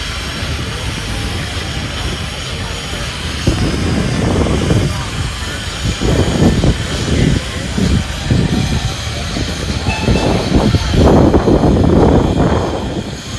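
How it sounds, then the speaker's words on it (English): A Super Sentinel steam engine rolls past in a steam rally parade at Scampston Hall, giving a steady hissing, rumbling drone with repeated chuffing surges growing louder toward the end, while someone talks over it. "Another Super Sentinel, very popular steam engine."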